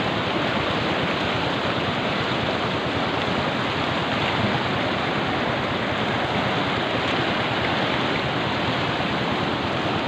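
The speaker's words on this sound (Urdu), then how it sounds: "یہ ندی آئی ہے، ان ندیوں کے پانی سے جو ہے نا توسا شریف میں جو پہلے فلڈ آیا ہے" Fast-flowing flood water surges down a stream near Taunsa Sharif, a loud, continuous broadband roar of rushing water with no break or voices.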